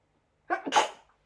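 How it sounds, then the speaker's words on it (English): A single short sneeze, close and fairly loud, with a quick intake of breath before it and silence on either side. "I think I'm going to sneeze"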